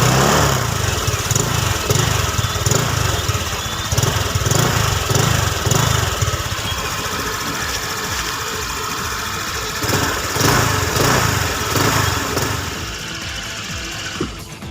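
A Euro Motor Samurai 155i Version 2 (2024) motorcycle idles with its stock exhaust, a close, loud, pulsing putter that throbs in a steady rhythm and eases slightly toward the end.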